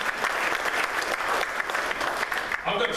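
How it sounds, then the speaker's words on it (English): A ceremony audience claps for wrestling hall of fame inductees, a dense, steady wash of many hands that fills the whole stretch without a break. "So, round of applause to you too."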